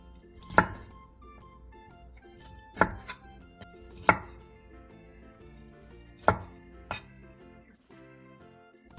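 A knife chops button mushrooms and broccoli on a cutting board in a home kitchen, giving five or six sharp, separate thuds at an uneven pace over steady quiet background sound.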